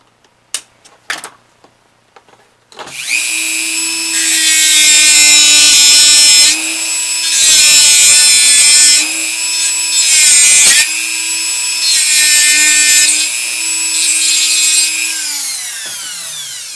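A power tool grinds through a nail for a SnapBow build in sustained bursts of several seconds each, separated by brief pauses, loud and close after a few sharp knocks at the start.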